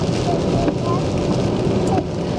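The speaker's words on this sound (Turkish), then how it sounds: "Dışarıda hala yağmur yağıyor. Bilmiyorum duyuyor musunuz? Rüzgar, yağmur." Steady, dense rain patters over a broad rushing noise with a hint of wind, loud and continuous throughout with no clear pauses.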